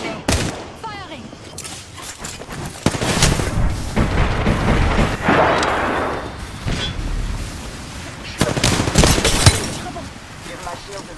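Rapid bursts of gunfire in an Apex Legends match, loud and close, with booming shots and fusillades repeating throughout, while voices call out over the shooting.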